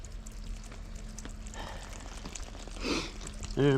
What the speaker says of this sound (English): I'll turn this water on a little bit more.